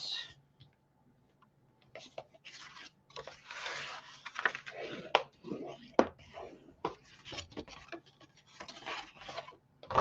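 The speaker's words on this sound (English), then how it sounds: "go ahead and burnish all my score lines" Burnishing score lines on paper for a matting craft project, a soft close rubbing and scraping that comes in uneven strokes of friction, with small clicks and handling noises and quiet stretches between them.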